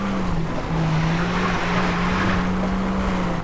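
A car engine droning steadily at full throttle with broadband road noise, a continuous synthetic-sounding whine from the video game Far Cry 3.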